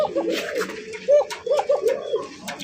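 Fancy racer pigeons at a farm coo in short rolling bursts, close and clear, with brief sharp noises and someone talking in between.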